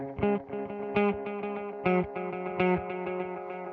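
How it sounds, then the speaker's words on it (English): Guitar notes played through the tape echo of a NUX Duotime delay pedal, a steady run of plucked notes that each trail off in repeating, decaying echoes, with no talking. "the tape echo is based on the tape machines of the old times, and you can clearly hear, like, on the decaying notes,"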